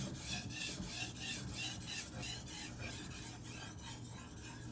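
Kitchen knife blade drawn over a sharpening stone, close rhythmic scraping strokes repeating steadily with no voices.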